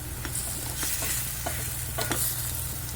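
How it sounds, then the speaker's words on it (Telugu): A spoon scrapes and stirs chutney in a pan over a steady sizzle, with a few sharp scraping strokes and no talking. "మంచిగా కలుపుకోవాలి ఈ విధంగా."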